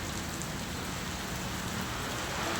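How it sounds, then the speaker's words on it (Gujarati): Heavy rain with storm winds pours steadily in a dense, continuous hiss of drops hitting surfaces, loud and close with no pauses, in Bahucharaji. "વરસાદ બહુ આવે છે"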